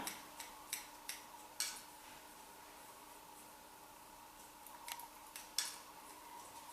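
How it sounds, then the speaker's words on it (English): Scissors snip into hair point-cutting style, a quick series of small crisp clicks, then a pause and another short burst, close and fairly quiet. "Just point cut into that."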